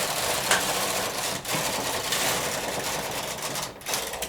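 A knitting machine carriage makes a single pass across the needle bed: a steady, close mechanical clatter and whir with a brief catch near the middle and a slight tail-off at the end.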